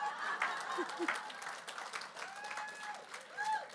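A church congregation at a women's service gives faint, scattered applause, thin clapping mixed with murmuring voices and speech in the background, quiet and uneven throughout.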